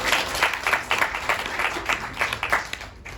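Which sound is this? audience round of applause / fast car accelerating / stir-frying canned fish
audience round of applause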